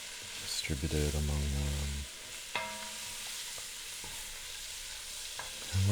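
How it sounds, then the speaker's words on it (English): A wooden spoon stirs chopped leeks sizzling in oil in a pot, a soft steady frying hiss with scraping strokes, while someone talks quietly over it for the first part. "I have my trusty wooden spoon. Just gonna stir these around, get some oil"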